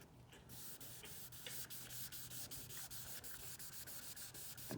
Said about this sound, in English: I'm just taking my time and sanding this back and forth.